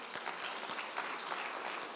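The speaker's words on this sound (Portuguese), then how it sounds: "As palmas para o Senhor." Brief, steady round of clapping from a church congregation during a worship service, dense and continuous from start to finish.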